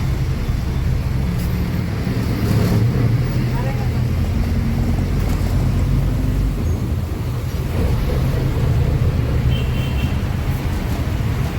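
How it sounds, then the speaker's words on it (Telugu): Steady low rumble of a bus travelling from Hanamkonda to Warangal, a continuous engine and road drone with broadband rattle filling the whole stretch, loud and close throughout. "హన్మకొండ నుంచి వరంగల్కి బస్సులో వస్తున్నాం"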